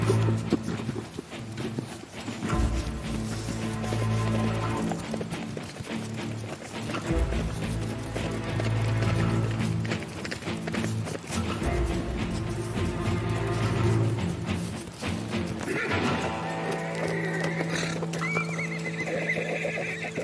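Wild horses of the Australian Alps, caught and broken in, carry riders over steep, rugged mountain slopes, with neighs and whinnies and clip-clopping hooves over a steady, full background bed.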